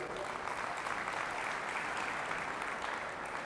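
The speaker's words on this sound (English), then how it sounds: "So just a round of applause." Audience applause at an in-person agent rally, a steady continuous wash of clapping heard fairly faintly from a distance.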